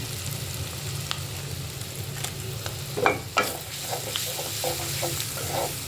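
Spices fry in mustard oil for chicken tehari, with a soft continuous sizzle, a couple of louder scraping stirs around the middle, and light spoon-against-pan clatter afterward.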